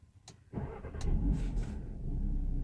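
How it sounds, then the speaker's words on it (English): On a cold 30-degree day, a car's starter grinds as the engine cranks and struggles to catch, making a close, rough, uneven churning that swells and then settles, with no voices. "Burn out my starter trying to get this thing going."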